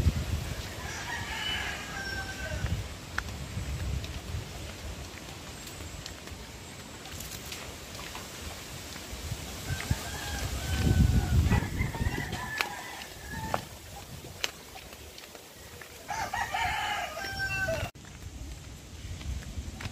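Chickens cluck and a rooster crows in a noisy farmyard, with scattered bird calls and rustling throughout.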